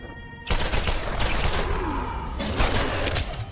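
Rapid pistol fire in a video game crackles as a dense, continuous volley, loud and close, with bursts running almost without a break after an abrupt start.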